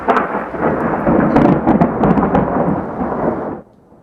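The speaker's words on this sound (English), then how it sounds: "From lightning and that thunder to flooding and even hail, we're seeing it all as a quick-moving storm plows through San Diego County." Loud thunder rolls through a quick-moving storm in San Diego County with rain, a sustained rumbling crash that fades out abruptly near the end, with no voices.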